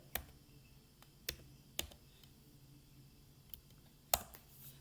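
A few sharp, faint computer mouse clicks, spaced irregularly in a quiet room, sound while a new folder is created on a Kali Linux desktop.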